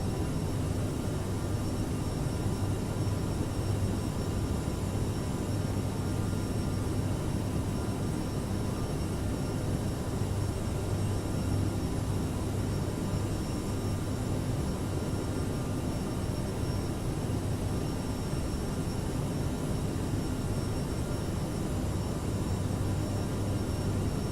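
An airliner climbs out after takeoff from Stockholm in Microsoft Flight Simulator, its engines a constant, even roar and hiss that holds unchanged for the whole stretch with no voices.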